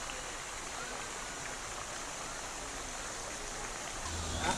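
River flowing beside a chalet at Kampung Sahom, Perak, its water murky after earlier rain: a steady, close broadband rush with no breaks, heard alone with no talking.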